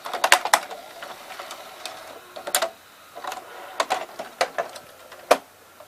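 A GoVideo GV-6010 dual-deck VCR works its eject mechanism, giving off a run of irregular, sharp mechanical clicks and ticks, close up and otherwise fairly quiet.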